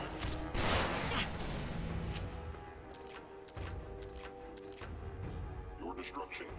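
Shotgun blasts in Fallout 4 boom out several times over a few seconds, loud and punchy with gaps between them, mixed with combat noise and a talking voice.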